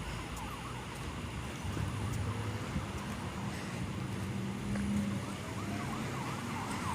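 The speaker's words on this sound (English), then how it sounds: "I don't know if you can hear, but there's sirens going on." Emergency vehicle sirens wail through an evening street scene, a steady rising and falling tone under constant traffic rumble, moderately distant and partly buried in the road noise.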